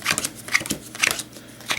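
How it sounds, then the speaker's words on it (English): Playing cards are set down one after another into piles on a table, making a series of light, crisp slaps and flicks at an uneven pace, close and fairly quiet. "We're gonna completely lay down all the cards."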